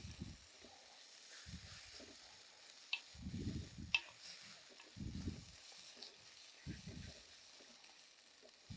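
Ground green coriander paste sautéing in a pan gives a soft, steady sizzle with occasional stirring scrapes and faint ticks, quiet and close.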